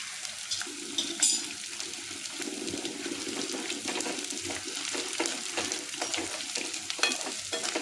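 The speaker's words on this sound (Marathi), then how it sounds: "तूप आपलं चांगलं मस्त गरम झालंय. तर आता याच्यामध्ये आपण डिंक घालून घेऊया. थोडा थोडा घालून तळून घ्यायचं आहे." Edible gum pieces fry in hot ghee with a steady, crackling sizzle that holds close and even throughout, with occasional louder pops and bubbling bursts.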